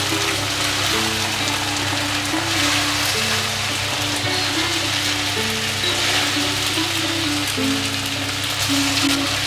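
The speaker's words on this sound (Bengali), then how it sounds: "মাঝে মাঝে সাবুটাকে অল্প অল্প করে নাড়াবো যাতে তলাটা লেগে না যায়" Sabudana with potato and peanuts cooks over medium heat in a pan and is stirred now and then. A dense, steady crackling sizzle like patter runs the whole time, close by, while faint music plays underneath.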